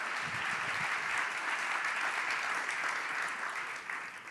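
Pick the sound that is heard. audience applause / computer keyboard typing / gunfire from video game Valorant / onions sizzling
audience applause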